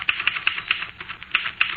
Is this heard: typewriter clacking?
yes